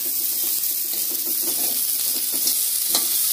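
Sea crab frying in a pan, a dense continuous hiss and crackle of hot oil close up, with occasional soft pops and stirring noises.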